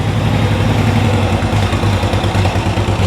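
Turbocharged lawn mower engine idling rich after being pulled from storage, a loud, steady low-pitched putter with an even pulsing rhythm close up, running alone without talk.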